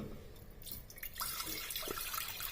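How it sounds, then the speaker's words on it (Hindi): Water pours into a pan set on the stove while making suji halwa, a steady hissing splash that grows fuller and stays constant after a short, quieter start, with no talking. "1 लीटर पानी डाल देना है"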